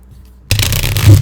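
A tarot card deck is shuffled close by: after a brief quiet moment, a sudden loud riffling burst of cards continues to the end.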